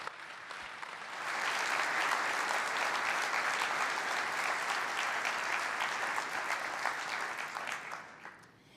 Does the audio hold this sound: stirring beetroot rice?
no